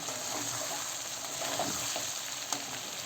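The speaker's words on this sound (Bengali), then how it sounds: "অনেকক্ষণ ধরে মাংসটা কষিয়েছি" Meat being slow-fried (kosha) in a pan gives a steady, close sizzle with soft crackle, unbroken from start to finish and with no voices.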